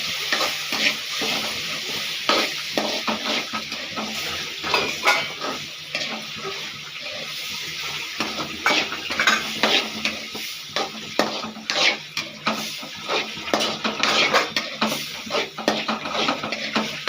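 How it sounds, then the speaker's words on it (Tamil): Tomatoes for tomato pachadi sizzle in a pan while being stirred, a steady frying hiss broken by irregular scraping and clattering strokes of the spoon, close and continuous with no talking. "நல்லா வதங்கட்டும்"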